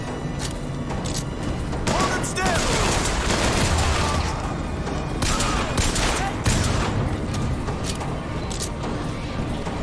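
Rapid, loud gunfire in Bioshock Infinite, dense bursts and booms fired close and continuously across the whole stretch, with a few sharper cracks and crashes mixed in.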